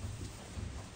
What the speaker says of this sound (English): It is raining and we are in our metal barn.